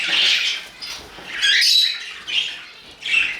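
Budgerigar chicks and their parents squawk and chatter inside a nest box, loud, close, raspy calls that come in overlapping bursts with brief pauses between.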